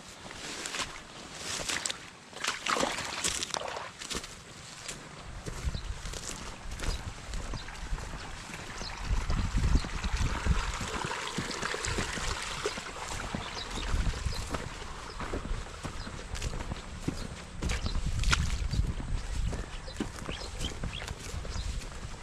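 Steady broadband rush of irrigation water pouring and splashing into an onion field outdoors, continuous and fairly close, with some rustling and clatter in the first few seconds.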